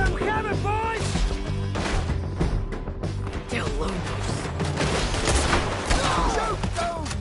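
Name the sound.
gunfire in a shootout, from a video game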